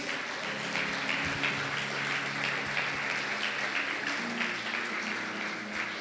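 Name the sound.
congregation applauding in church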